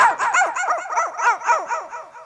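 A boy mimics a puppy with his voice, giving a rapid run of high, yappy barks and yips, close and loud with no pauses.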